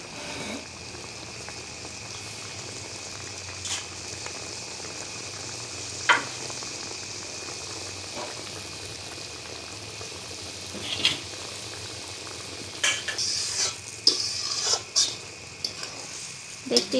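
Pre-fried fish seasoned with turmeric, chili and salt fries in a pan for fish bhuna in a home village kitchen, with a steady close sizzle and intermittent scrapes and clinks of stirring, growing busier toward the end.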